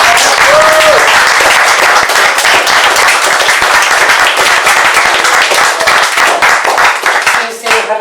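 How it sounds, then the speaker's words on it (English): An open mic audience gives a loud, sustained round of applause for the feature reader, with dense clapping that fills the whole stretch before thinning out near the end. "give a massive, huge round of applause for Fiona, our feature reader."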